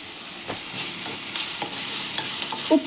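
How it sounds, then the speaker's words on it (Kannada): Salted potato bonda mixture is stirred in a bowl with a few soft scraping, squelching strokes, quiet and close. "ಉಪ್ಪು ಹಾಕಿದ್ಮೇಲೆ ಒಂದು ಸತಿ ಮಿಕ್ಸ್ ಮಾಡ್ಕೊತಾ ಇದ್ದೀನಿ."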